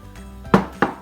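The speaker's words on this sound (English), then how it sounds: "right now we're going to add the butternut squash to it" Chunks of butternut squash drop into a pot of simmering tortellini soup, two close, solid thunks a fraction of a second apart over a low bubbling background.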